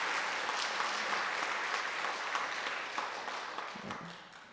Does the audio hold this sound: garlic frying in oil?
no